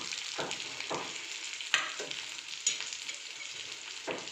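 Carrots and peas frying in a pan over low heat, a soft steady sizzle broken by occasional spatula scrapes and stirs, close and fairly quiet.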